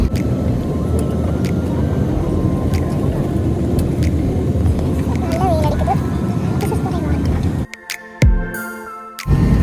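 Steady loud passenger jet engine roar at an airport fills most of the clip, then cuts to a quieter cabin with a few thumps and a brief rumble near the end.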